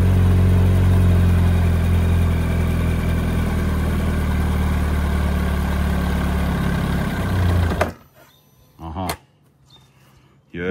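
A Yamaha R1 motorcycle engine with a knocking fault runs in gear under load, a loud steady drone that suddenly cuts out as the engine stalls, followed by near quiet with a couple of brief noises.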